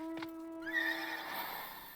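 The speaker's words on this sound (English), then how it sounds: "There's one thing I do like about having one of these horses." A horse mount in Final Fantasy XIV gives a single clear neigh, a rising whinny that trails off over a steady in-game tone, with no talking.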